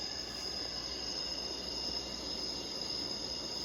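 A white noise sound machine plays its summer night setting: a steady, faint, high chirring of crickets held at an even level over a soft hiss, with no voices.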